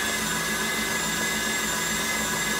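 An electric mixer whips a chocolate and coffee mousse, giving a steady, loud, unbroken motor whine with a dense high hum that holds evenly from start to finish, no voices.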